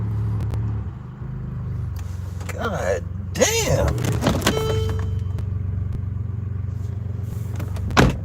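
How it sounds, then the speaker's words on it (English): Loud cars rumble past on a neighborhood street, a steady low engine drone with a few rising whooshes and thumps, while a man mutters briefly over it. "Hate them loud ass cars."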